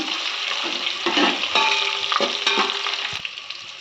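Chopped chillies and capsicum fry in a pan for bisibele bath, giving a steady close sizzle broken by stirring scrapes and a few utensil knocks.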